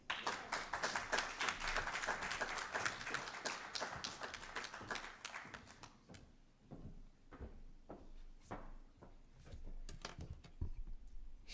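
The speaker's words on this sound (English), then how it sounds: "Another round of applause for our esteemed colleagues." Audience at a UNISA International Festival session applauds its speakers: a dense, steady round of clapping that thins after about six seconds into scattered, isolated claps.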